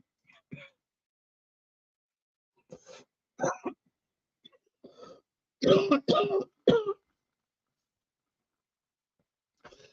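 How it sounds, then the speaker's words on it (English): Several short coughs and throat-clearing bursts come in scattered clusters, the strongest a close, rough group of three, separated by quiet pauses. "I cough."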